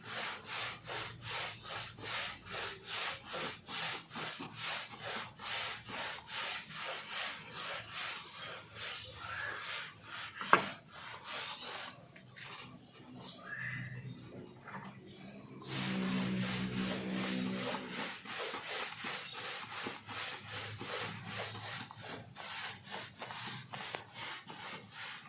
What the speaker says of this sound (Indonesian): Juga membersihkan bagian sela-sela pada emblem ataupun logo ya.